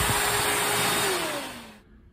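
A shop vac is run as a blower with a pipe taped to its outlet. It gives a loud, close, broadband roar that falls in pitch as it powers down and cuts off near the end.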